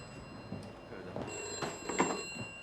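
An old telephone bell rings in an indoor scene from a 1971 drama, a bright trilling ring that repeats in short bursts over faint room noise.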